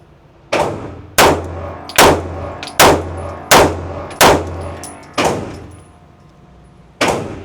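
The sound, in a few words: gunshots from Kimber 2K11 pistol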